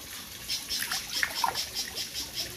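Water trickles and dribbles while red tilapia fish are transferred, a soft steady splashing with small drips, faint and close.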